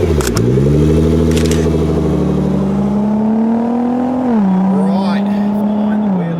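Nissan GT-R R35 twin-turbo engine revving loudly up close, a strong steady drone with rising and falling pitch over several seconds, with brief clatter at the start.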